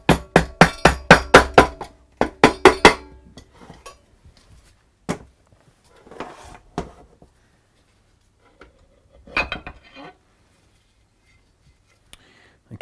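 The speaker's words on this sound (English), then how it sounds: "let's get this sump tapped off" Sharp metallic taps on a lawn mower's aluminium engine sump to break the gasket, a quick run of close, ringing knocks in two bursts, then scattered fainter clinks and scrapes amid quiet.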